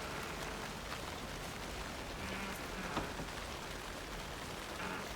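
Steady rain falls across a dark outdoor area in the survival horror game Alan Wake 2, a dense, even hiss that continues without pause from start to finish, with no voices over it.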